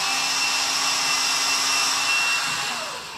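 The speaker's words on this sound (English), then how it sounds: "use a small drill bit" A small drill bit bores into a canvas frame, giving a steady, close motor whine that holds for about three seconds before easing off at the end, with no talk.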